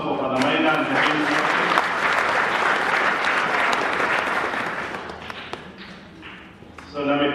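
Sustained applause fills the church at a Catholic Men Association commissioning at Mary Queen of Apostles, Dagoretti, as a dense, even wave of clapping that thins out toward the end before a brief final swell.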